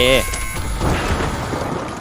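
A deep, rumbling explosion in the first-person shooter The Finals booms and rolls on for a couple of seconds, loud and close.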